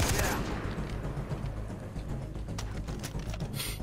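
Minigun fire in Far Cry 3, a dense burst of rapid gunfire opening loud and continuing as scattered shots and clatter in a chaotic co-op firefight.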